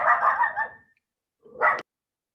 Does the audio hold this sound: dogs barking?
yes